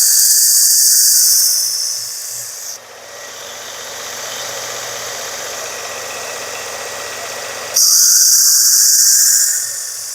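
A Worksharp powered sharpener grinds a Rosecraft Otter Creek Barlow pocketknife blade, a loud high whine in steady passes with a short pause between, the motor buzzing throughout.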